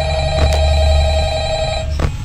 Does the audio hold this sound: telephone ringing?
yes